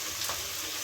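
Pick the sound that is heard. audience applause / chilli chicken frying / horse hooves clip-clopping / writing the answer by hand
chilli chicken frying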